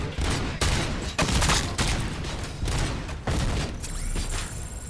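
Loud bursts of enemy gunfire in a shooting game come in repeated heavy volleys separated by brief gaps, with booming low rumble throughout.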